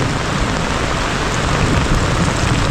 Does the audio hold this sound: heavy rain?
yes